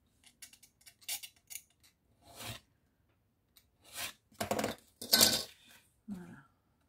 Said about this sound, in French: Alors, je vais le couper en biseau pour pas que ça gêne pour le rentrer.